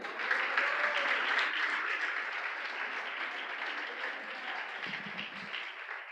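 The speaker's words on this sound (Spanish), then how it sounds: "Fuerte ese aplauso al Señor." A church congregation applauds the Lord in a sustained, even roar of clapping heard from some distance, gradually easing off, with a brief low murmur near the end.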